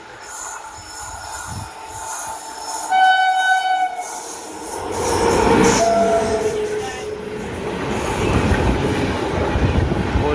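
Hazrat Nizamuddin express train passing on the Konkan Railway, a loud rumble of wagons and wheels with a brief sustained horn blast early on, squealing tones, and the rolling roar building toward the end, with no talk.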